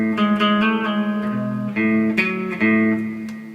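Guitar plays a full song riff, a run of quick picked notes and chord changes in steady rhythm, close and clear, with no talking over it.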